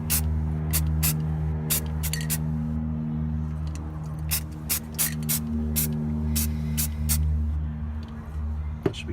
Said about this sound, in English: I am going to just spray it with some Rust-Oleum so that it doesn't want to rust or anything like that